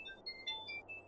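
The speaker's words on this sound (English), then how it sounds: "Oh, I'm getting a phone call." Electronic ringtone chimes of an incoming phone call during a Final Fantasy XIV session, a run of short steady tones at changing pitches, fairly quiet over low background hum.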